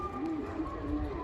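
Pigeons cooing at a rooftop loft, low soft repeated coos rolling steadily over a constant background hum, fairly close and moderately loud throughout.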